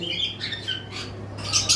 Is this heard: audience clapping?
no